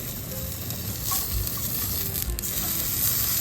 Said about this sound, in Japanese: だいぶいい色になってきて、今一回休ませて焼き直してるところです